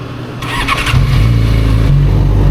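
A Yamaha R6 sport motorcycle engine starts up close by and settles into a loud, steady idle rumble with a slight rise in pitch near the end.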